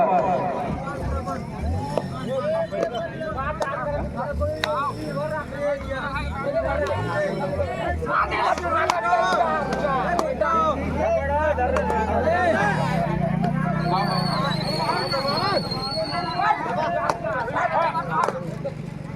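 A large crowd of spectators packs a kabaddi ground for a quarter-final match, its babble and chatter running continuously while an announcer talks over it and low vehicle-like rumbles drift in.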